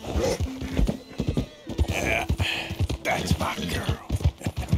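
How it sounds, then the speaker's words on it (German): A horse in Red Dead Redemption 2 clip-clops along with rhythmic hoofbeats and lets out a whinny, close and clear, with faint game ambience behind it. "das ist ein Pferd."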